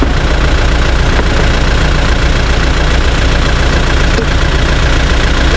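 A motorcycle engine idles loudly and close by, a steady rough chugging rumble with no talking.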